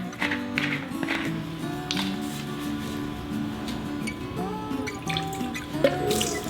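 Apple cider vinegar trickles into a measuring cup, a soft, quiet liquid pour with gentle gurgles and drips, close by.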